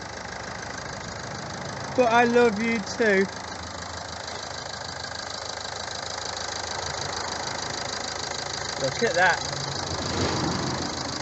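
A Mazda MX5 engine idles with a steady, rough mechanical hum and slight knocking throughout, while people talk briefly over it.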